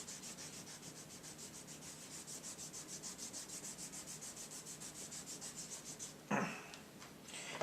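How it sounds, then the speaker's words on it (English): A plastic eraser rubs rapidly back and forth on paper in a close, steady rhythmic scrubbing, then a drafting brush sweeps away the shavings with a few quick swishes. "Using an eraser, plastic eraser. I got more of these, and this, a drafting brush to get rid of all the eraser shavings."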